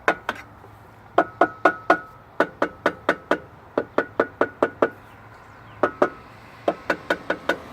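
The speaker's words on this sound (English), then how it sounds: "when you're tapping, you hear like a thud or a tap" A hand taps repeatedly on a suspension bushing of an AMG S63 car, producing a long series of sharp, close knocks and thuds in irregular bursts with short pauses between groups.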